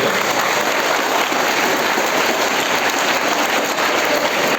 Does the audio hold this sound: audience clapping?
yes